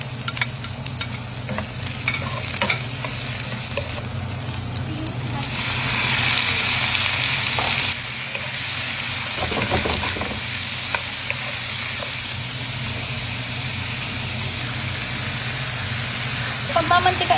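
Onion and garlic frying in oil in a pan for chicken and pork adobo, a steady broadband sizzle throughout with stirring scrapes, louder in the middle, while a person talks over it.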